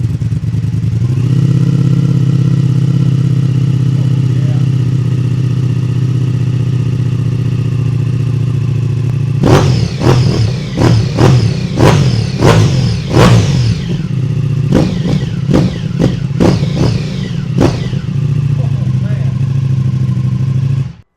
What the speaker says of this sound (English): let me give you a nice cold start and see if you can tell the difference